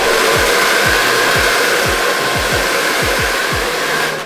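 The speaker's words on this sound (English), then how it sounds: "I just put it on and then I go over it with the blow dryer." Handheld blow dryer run over a lace wig's elastic melting band during an install, a loud steady whooshing hum close to the mic, with a series of soft low thumps.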